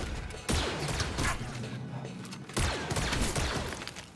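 Blaster gunfire in the video game Star Wars Jedi: Survivor, with two sharp bursts of rapid shots and clattering impacts over continuous game noise, loud and close.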